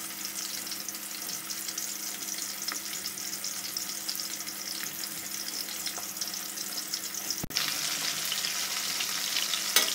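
Pieces of rohu fish fry in oil in a pan with a steady, close hissing sizzle and a sharp clatter near the end as the fish is turned.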